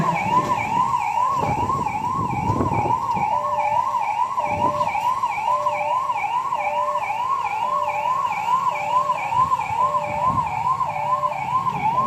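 An ambulance siren at a police mock drill for a terrorist attack wails in a fast, steady up-and-down cycle over a rumble of nearby traffic, continuous and fairly loud throughout.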